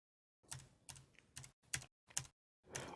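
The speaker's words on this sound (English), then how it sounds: "hit your up and down arrow keys on your keyboard" Arrow keys tapped on a computer keyboard, six distinct clicky keystrokes at uneven intervals, close and fairly quiet, with no voices.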